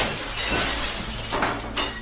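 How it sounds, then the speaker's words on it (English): Glass shatters at a window, a loud crashing burst followed by tinkling fragments and a second smaller clatter, heard alone without talk. "sounded like broken glass, so I went to check it out"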